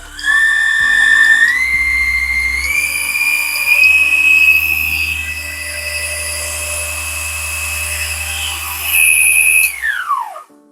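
RAYBAO cordless car buffer polisher running at its lowest speed, a loud close motor whine that steps up in pitch a few times, holds steady, then winds down as it stops.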